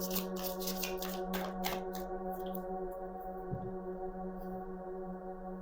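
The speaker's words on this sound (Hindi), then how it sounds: "एक बार और शफल कर लेते हैं" Tarot cards are shuffled in a quick flurry of soft, close riffling snaps over a steady background hum, fading to just the hum.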